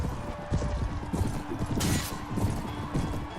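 Horses galloping in Mount & Blade Warband during a 1257AD team tournament battle, their hooves thudding in a fast, busy clip-clop with a sharp crack partway through.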